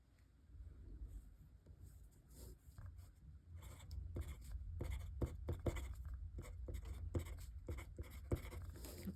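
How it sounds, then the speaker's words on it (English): A fountain pen with an italic nib scratching across paper laid directly on a desk, in quick irregular strokes and taps over a low rumbling background, close and faint. "But that could be because I'm writing right on the desk."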